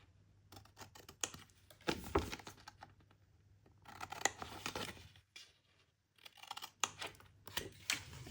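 Scissors cutting through paper card at an angle while making an envelope box, in several short bursts of crisp snipping and slicing separated by quiet pauses, close and fairly soft.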